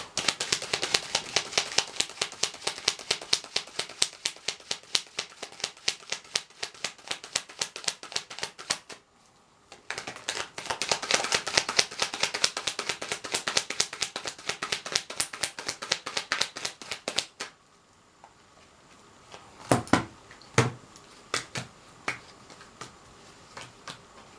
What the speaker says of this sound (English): So I'm just going to jump straight into this now and start shuffling.